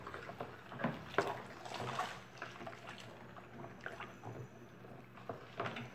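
Water is poured into a container while mixing a homemade coconut all-purpose cleaner with baking soda, making a faint, continuous, uneven splashing trickle with no talk over it.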